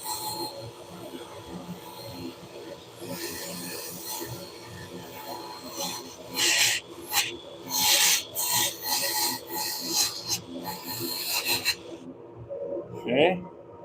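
Sandpaper rubs across a spinning oak bowl on a wood lathe, smoothing the edge without changing its shape, in a series of raspy strokes that grow louder and more rhythmic toward the end over a steady motor hum.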